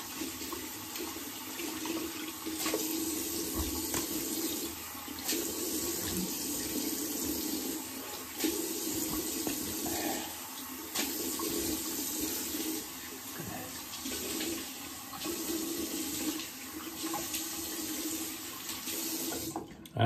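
Cold water runs steadily from a bathroom tap for about twenty seconds after a shave, a constant close splashing hiss with small shifts in flow and no talk over it.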